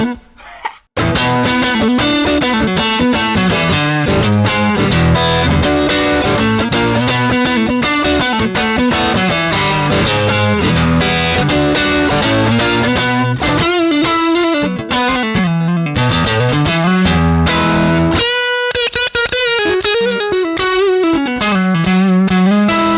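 Electric guitar played through the Neural DSP Archetype plugin on its Strat neck grunt preset, a loud, continuous distorted tone with sustained chords and melodic lines for the whole stretch, no talking over it.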